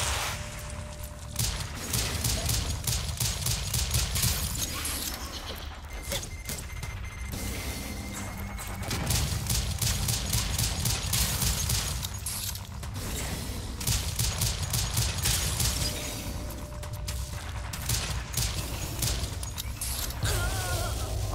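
Gunfire in a video game horde mode: sustained rapid bursts of shots and clattering impacts, loud and near, with brief pauses between volleys and no talking.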